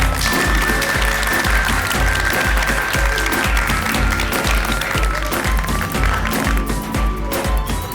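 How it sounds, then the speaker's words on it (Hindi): Loud applause from a crowd at a felicitation ceremony held at a resort party, sustained and energetic throughout, with a steady rhythmic thumping beat and a tonal whistle-like sound beneath the clapping. "सबसे पहले मिशन काला कौवा को सफल बनाने के लिए आप सभी के लिए जोरदार तालियां हो जाए."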